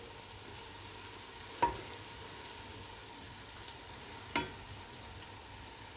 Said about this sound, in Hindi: चम्मच चलाते रहना है आपने ताकि प्याज जो है वो हर तरफ से एक ही कलर में ब्राउन हो